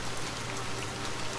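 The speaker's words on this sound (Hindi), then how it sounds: "बारिश अभी भी रुकने का नाम नहीं ले रही थी।" Steady rain falls in a continuous soft hiss, a faint, even patter with no voices or other sounds.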